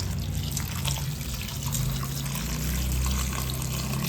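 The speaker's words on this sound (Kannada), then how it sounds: "ನೀರು ಹಾಕ್ಕೊಳ್ಳೋಣ." Water poured into a pot of Coorg-style bamboo shoot curry with turmeric and lentils, a steady close pour running without a break under a low rumble, with no talking.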